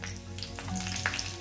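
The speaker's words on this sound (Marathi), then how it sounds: "त्यात आपल्याला थोडीशी मोहरी आणि कढीपत्ता टाकून घ्यायचा आहे." Mustard seeds and curry leaves sizzle in hot oil in a pan, giving a soft, crackly frying hiss with small pops, faint and close up, with no voices over it.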